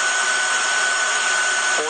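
The cooling blower of a 3CX3000 radio amplifier installed in a work truck runs as a steady, loud whooshing roar with a faint whine, continuous throughout.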